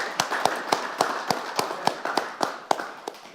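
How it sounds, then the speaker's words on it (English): Steady, evenly spaced claps at a scholarship awards night, about a dozen sharp hits at a brisk rhythm, fairly close and moderately loud, with no voices over them. "give you a round of applause for that"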